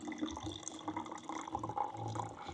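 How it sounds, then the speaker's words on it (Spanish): A water bottle being filled at a tap or fountain during a zoo visit in Miami, with a steady running, trickling flow of water mixed with faint background bustle. "Aquí voy a llenar mi botella de agua"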